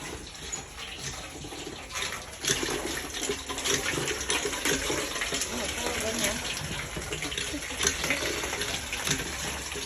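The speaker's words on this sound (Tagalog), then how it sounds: "We're using the water pump manually" Steady gushing water from a manually operated water pump at a rural water source in the Philippines, continuous and fairly close, with faint voices in the background.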